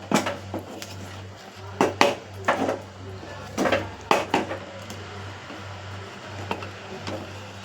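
A spoon or ladle stirs thick kali, a millet porridge, in a pot over low heat, giving close, irregular scraping knocks and clatters against the metal in short bursts, with no talk.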